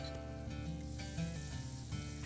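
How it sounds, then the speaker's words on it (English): Crab cakes sizzle steadily in butter in a hot pan, a soft continuous frying crackle with no talking over it. "That's exactly what we want to hear. A little sizzle."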